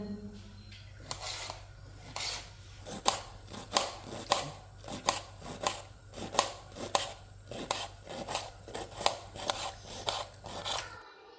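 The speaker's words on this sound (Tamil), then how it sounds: "அப்படியே சைடில் வந்து நுரப்பீக்கங்காவும் கட் பண்ணிக்கலாம்" Young ridge gourd being cut for a stir-fry, giving a steady run of crisp, evenly spaced knife chops close by, about a dozen sharp strokes with no talking.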